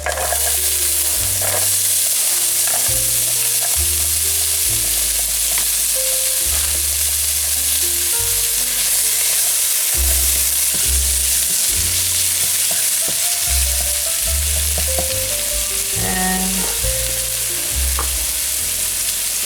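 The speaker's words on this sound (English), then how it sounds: "Now next part I will saute onion with mushrooms." Onion and mushrooms sauteing in two tablespoons of oil in a hot skillet, a steady close sizzle with repeated low stirring scrapes throughout, no talking.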